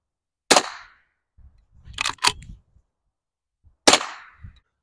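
Sharp, loud cracks from an unsuppressed .22 rifle, one near the start and another a few seconds later, with dull thumps and handling noise in between.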